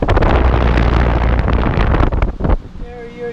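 Carrier Desertmaster air conditioner blasting air, a loud, gusty rushing roar battering the microphone that drops away after about two and a half seconds to a quieter hum with faint tonal whine.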